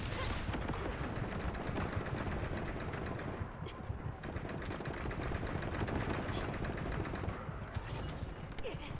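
Sustained incoming gunfire in a video game, heavy automatic bursts and booming shots pounding continuously and loudly at the player with no pause.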